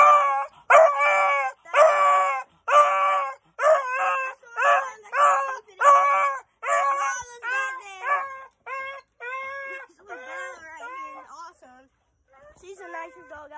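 A dog with a sore throat lets out a long run of loud, hoarse, strained howls and yelps, each cry separated by short gaps and fading in strength toward the end.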